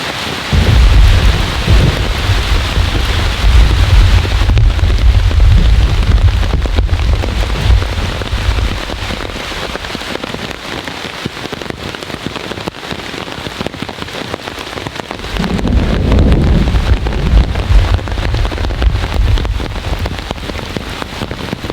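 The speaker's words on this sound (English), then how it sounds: "The rain is slacking off now. It's nothing but a drizzle." Heavy rain pours steadily on an ultralight two-person backpacking tent during a night storm, with deep rolling thunder rumbling loudly near the start and again later, a dense continuous roar with no talk.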